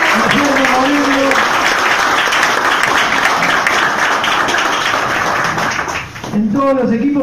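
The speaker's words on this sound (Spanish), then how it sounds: "a Guillermo Moreno, que lo vamos a recibir con un fuerte aplauso" An audience at a Peronist political rally in San Vicente applauds loudly and continuously, a dense, steady roar of clapping that dips briefly near the end.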